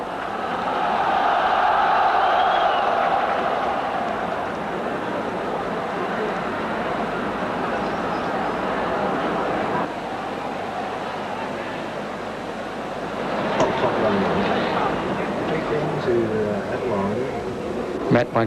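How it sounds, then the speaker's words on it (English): A local football crowd at a 1981 World Cup qualifier between China and New Zealand gives a broad, rumbling roar after a corner decision. The noise swells, then stays as a steady wash under continuous commentary. "You can hear the reaction from the local crowd."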